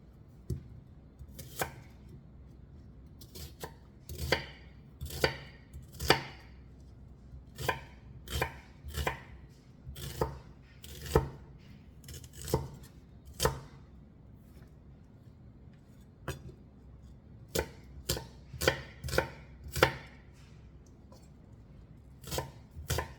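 Vegetables chopped on a cutting board while preparing talong with tuna, with sharp knife thunks in irregular bursts of several strokes separated by short pauses, close and distinct over quiet room tone.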